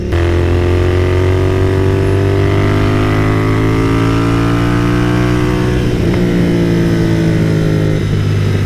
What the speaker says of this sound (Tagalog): Nagre-rev match ako pataas.